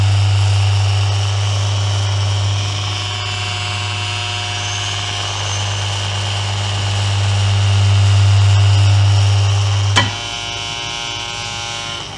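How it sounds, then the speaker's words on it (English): A small air propeller spins on a magnetic levitation model, giving a loud, steady motorized drone with a strong low hum that runs alone for about ten seconds, then cuts off abruptly, leaving a quieter background hum. "I'm going to put a little air screw on it, and when I switch this on, you get your propulsion"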